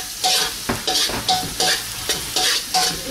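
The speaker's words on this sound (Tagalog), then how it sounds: "Maggisa na tayo ng bawang. Yung remaining na bawang. And yung onion." Garlic and onion sautéing in cooking oil in a pan, a loud close sizzle broken by regular bursts of stirring and scraping about twice a second.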